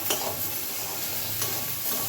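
Lentils stirred and lightly fried in a pan, a steady soft sizzle with a few brief scraping strokes of the spoon, close and continuous with no talking.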